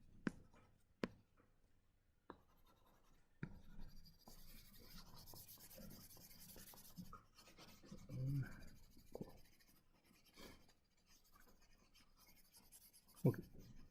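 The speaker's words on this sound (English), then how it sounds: "Erase all this." During an electronics lecture, an eraser rubs and scrapes across a board in a quiet, intermittent series of strokes, with a few sharp knocks and faint room noise around them.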